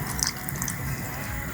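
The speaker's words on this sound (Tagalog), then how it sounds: "now, lalagyan ko siya ng vinegar. White vinegar." White vinegar poured into a cooking pan already holding oil and a little water for shrimp paksiw, giving a soft continuous trickle and splash of liquid at a moderate, steady level.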